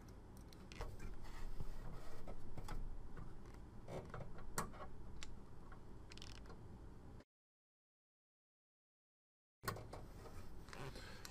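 Small metal screw driven into a 2.5-inch solid state drive during installation, a run of faint close ticking and creaking clicks for several seconds before a gap of silence, then more quiet mechanical noise.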